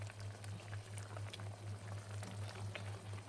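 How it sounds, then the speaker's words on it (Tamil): Mushroom gravy bubbling in a pan over a full flame, a steady dense simmer of small pops and crackles with a constant low hum underneath, faint and close. "ஸோ இப்போ நல்லா கொதிச்சிருச்சு"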